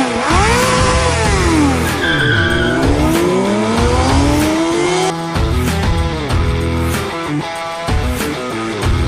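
A cartoon race car roars off with loud screeching tire skids and swooping, rising engine whines, close and continuous with no talk.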